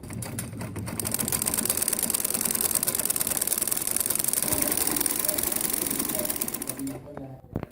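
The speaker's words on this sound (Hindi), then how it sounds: "अब मैं इसको सिलाई लगाने लगी।" A sewing machine stitches the hem of a salwar bottom with a fast, even mechanical whirring that runs steadily for about six seconds, then slows and stops with a few light clicks.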